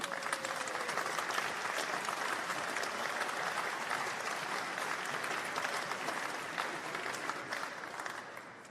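Steady applause fills a college graduation ceremony as names are read, a sustained crowd clapping that tapers slightly near the end.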